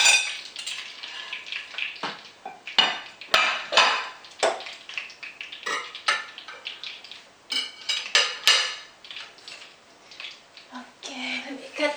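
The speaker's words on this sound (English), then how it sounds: "So now I will cut the meatball." A knife cuts a lobster meatball on a hard board, giving repeated sharp clicks and scraping taps at an irregular pace, close and fairly loud, with cutlery and dish clatter among them.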